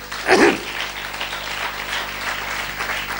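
A church congregation claps together. A sharp burst of clapping is followed by softer, sustained applause that continues to the end.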